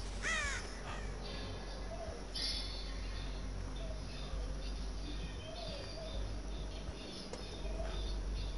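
Crows in a survival video game, a couple of caws near the start and sparse faint calls afterward over a steady background hiss, with no talking.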